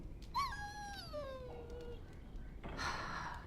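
A dog whimpers and whines in Dragon Age Origins, a single falling, pleading cry close by, followed by a short burst of louder noise as the scene goes on.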